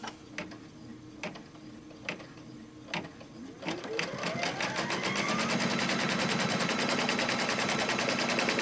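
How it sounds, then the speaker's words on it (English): Embroidery machine stitching a fabric mug wrap in the hoop: a few spaced mechanical clicks, then a steady rapid needle chatter with a rising whirr that grows louder and runs continuously to the end. "you're going to be stitching across that"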